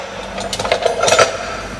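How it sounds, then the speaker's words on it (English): Brake pads pried out of a Land Cruiser 100 or 80 series front caliper with a screwdriver, giving a short burst of close metallic scraping and rattling clicks with no voices. "sometimes you can get a screwdriver and get these out"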